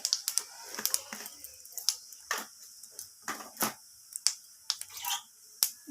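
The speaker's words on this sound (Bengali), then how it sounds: "এরপর আমি ওই একই তেলের মধ্যে ফোড়নে দিয়ে দিলাম সাদা জিরে" White cumin seeds dropped into hot oil, popping and crackling in scattered sharp clicks and snaps at an irregular pace over a faint hiss, close and fairly quiet, with no talk.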